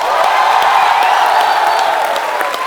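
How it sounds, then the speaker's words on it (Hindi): Studio audience on The Kapil Sharma Show applauding to welcome the Begum Jaan film team, a dense, continuous wash of clapping and crowd noise that stays loud and close throughout. "तो आप सबकी जोरदार तालियों के बीच स्वागत करना चाहूंगा फिल्म बेगम जान की टीम"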